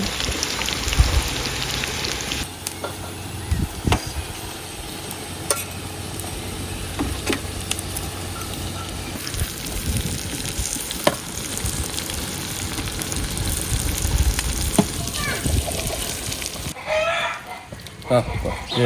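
Onion sizzling with lamb liver on a hot saj pan, a continuous crackling fry heard up close alongside background noise and occasional voices.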